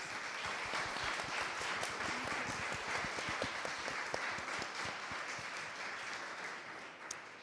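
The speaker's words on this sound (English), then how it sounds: "Big round of applause, please." A charity panel audience at an International Women's Day event gives sustained, steady applause, a fairly distant, even wash of many hands with no voices on top.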